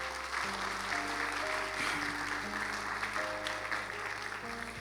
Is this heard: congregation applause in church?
yes